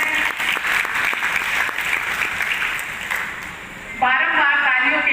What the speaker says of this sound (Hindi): ये तालियां निरंतर बजते रहने चाहिए